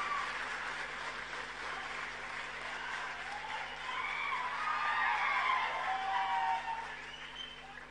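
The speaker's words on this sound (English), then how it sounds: "You can clap as loudly as you want." A large crowd at a Delhi event for Telugu actor and Janasena Party founder Pawan Kalyan claps steadily, with the applause swelling a little toward the middle before easing off, and some shrill cheering mixed in.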